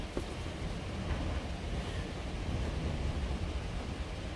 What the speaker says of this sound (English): Oh my goodness, the wind.